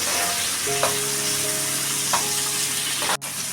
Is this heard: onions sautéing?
yes